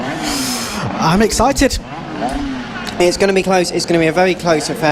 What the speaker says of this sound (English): And as they make their way up to the grid, you can hear the revving in the background.